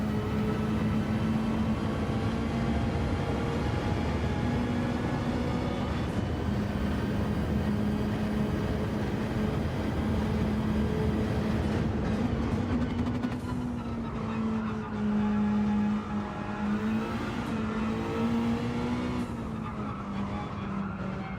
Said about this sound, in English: I hate bouncing off the rev limiter like that.